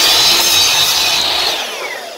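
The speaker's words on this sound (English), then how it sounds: "just cutting the edges of it and cutting the panel underneath it." A saw cuts through the edges of a wooden drawer panel during a drawer guide install, a loud close rasping whine that tapers off toward the end of a brief pass.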